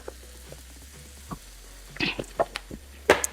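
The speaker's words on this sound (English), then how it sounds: "I'm gonna get those sauteed for just a little bit" Lobster and shrimp sautéing in a pan, a faint sizzle with scattered pops and clinks from the pan, close and quiet with no talking.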